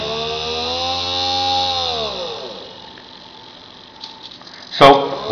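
A small brushed electric motor on an RC model controller whines loudly and its pitch swoops down as it slows and reverses direction, then settles quieter before a couple of sharp clicks.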